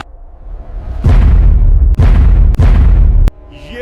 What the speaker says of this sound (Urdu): یہ تو پہاڑوں کی آواز ہے۔